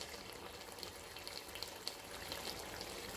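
Water pours into a pot of tomato sauce made with smoked dried fish, a soft steady splashing stream with faint gurgling, quiet and close, with no talk.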